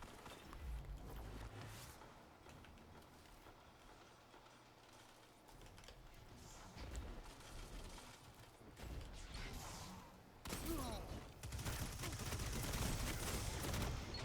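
Rapid video game gunfire rattles in dense, sustained bursts, with mechanical clatter and a busy, loud mix building toward a heavier barrage near the end.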